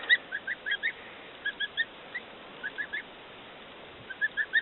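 Young ducklings and goslings peep in short, high, scattered chirps, several at a time, fairly faint and close, with no talking.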